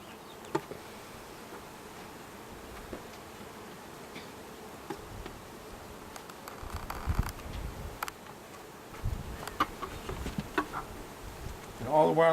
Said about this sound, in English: Now I gotta get all the rest of the bees onto this sheet.